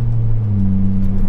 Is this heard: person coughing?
no